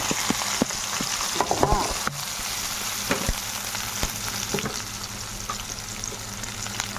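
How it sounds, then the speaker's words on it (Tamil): Ivy gourd frying in hot oil with mustard seeds, a dense continuous sizzle with scattered pops and crackles, close up, plus a few utensil clinks and stirring scrapes early on. "எண்ணெய் கடுகு, கோவக்காய் போடுவோம்"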